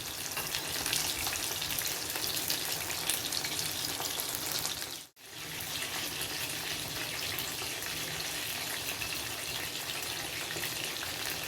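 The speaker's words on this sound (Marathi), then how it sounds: "जोपर्यंत पाणी उडतंय असा जो आवाज येत असतो तो कमी होत नाही तोपर्यंत त्याला हात लावायचा नाही आपण" Bombay duck fish fries in a pan on low heat, spitting water in a dense, steady crackling sizzle that cuts out briefly partway through, then carries on just as strongly.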